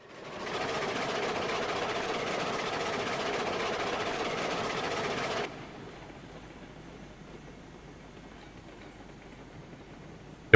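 A train engine in Railroads Online rumbles steadily and fairly loudly for several seconds. Then it cuts off abruptly, leaving a much quieter, low background hum.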